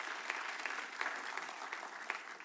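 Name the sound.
applause at city council meeting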